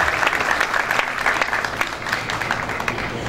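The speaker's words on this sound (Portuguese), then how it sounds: "Fuerte aplauso, por favor." An audience at a frontier tourism seminar gives steady applause, a dense wash of clapping with a few sharper individual claps standing out throughout.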